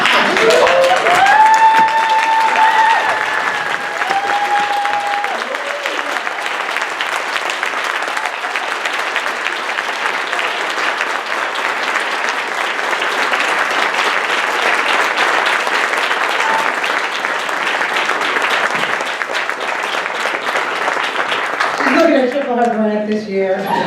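Panel audience at a drug policy strategy session stands and applauds, a loud, sustained wave of clapping filling nearly the whole stretch, with a few voices rising at the end.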